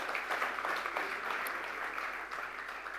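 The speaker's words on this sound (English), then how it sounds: "Ladies and gentlemen, please welcome him with a loud round of applause." Sustained applause from an audience welcoming the Railway Minister of India at a Make in India panel discussion, steady and fairly loud clapping filling the whole stretch without pause.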